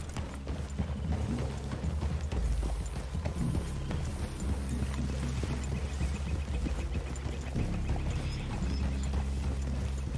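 Horses' hooves clip-clop at a steady walking pace in the Red Dead Redemption 2 video game, several animals moving together over a low game soundtrack at moderate volume.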